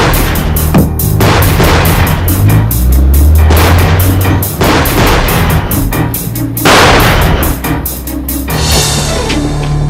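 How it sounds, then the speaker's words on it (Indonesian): Gunfire in a shootout scene from an Indonesian Warkop DKI comedy film, loud repeated shots and booms in bursts across the whole stretch, with a low rumble underneath. "Ada tembak-tembakan kok nih."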